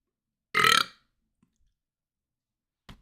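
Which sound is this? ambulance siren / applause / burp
burp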